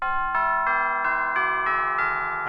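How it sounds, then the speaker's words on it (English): Tubular bell chimes from a MainStage keyboard patch, played in the top octave of a mallet controller, ring out as a steady series of bright, bell-like strikes about every third of a second, each one sustaining and overlapping the next, with no voices. "chimes on the top octave now as well"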